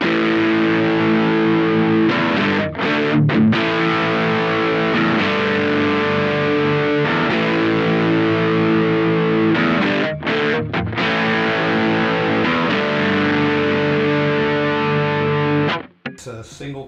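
Single-coil neck pickup of an electric guitar driven through a Danelectro Billionaire Pride of Texas overdrive pedal, steady loud crunchy chord riffing with short choppy breaks, ending abruptly.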